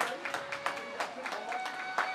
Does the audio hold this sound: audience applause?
yes